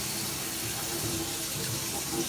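Water runs steadily from a tap just turned on after plumbing work with isolator valves, a continuous close hiss and splash with no talk.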